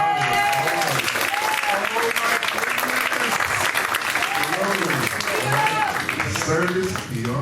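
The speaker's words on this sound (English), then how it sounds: "So let's give them a round of applause." An audience at a Liberian association Thanksgiving dinner applauds, a dense steady clatter of many hands filling the room, while voices talk and call out over it for the whole stretch.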